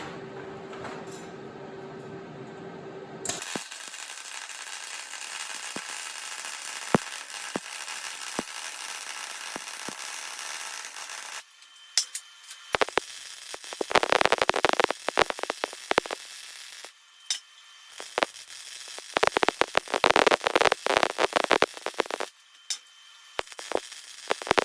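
A wire welder lays a weld bead, giving a crackling, sputtering buzz in uneven bursts that grows louder and more intense in the later half, with brief pauses between runs.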